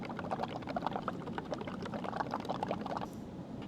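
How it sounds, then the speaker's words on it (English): Air blown through a straw into a cup of acrylic paint and bubble solution makes a steady, close bubbling gurgle. It continues without a break and eases off slightly near the end. "And now we're going to blow some bubbles."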